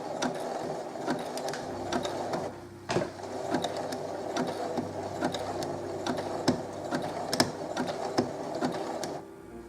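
A sewing machine stitches a pillow, running in a steady close mechanical whir with rapid needle clatter, pausing briefly once and easing off near the end as the stitching switches direction.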